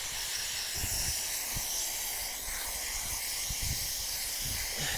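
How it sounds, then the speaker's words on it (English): A water hose sprays in a steady, close hiss while a dog is rinsed off during a wash, running continuously with faint soft thumps underneath and no talking. "And then I'll just give him a rinse off."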